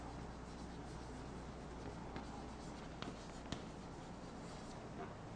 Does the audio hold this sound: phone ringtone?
no